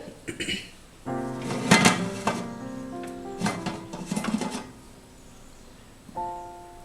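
A steaming pot holding a chocolate chip cake is opened with metallic clinks and a lid scrape, several close knocks over a few seconds, while a person speaks in between.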